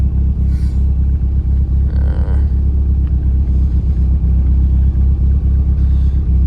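A Mitsubishi Eclipse GSX, a 1G car fitted with 97 2G injector clips, idles with a loud, steady, even low rumble that holds constant throughout, with no talk.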